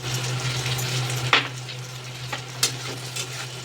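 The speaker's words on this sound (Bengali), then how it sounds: "দিয়ে এটাও নেড়ে চেড়ে মিশিয়ে নেবো" Okra frying in a pan with turmeric and salt, a steady close sizzle with a low hum beneath and a few sharp scrapes of stirring.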